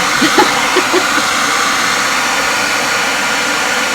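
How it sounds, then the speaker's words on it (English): A blow dryer runs steadily with a loud, continuous broadband whoosh that fills the whole clip. "And you can mute the loud blow dryer."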